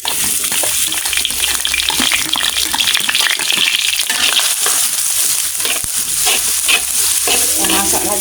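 Onions hit hot oil in a wok and fry with loud, continuous sizzling and crackling, while a utensil stirs and scrapes through them close by.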